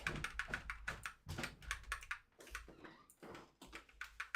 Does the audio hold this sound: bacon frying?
no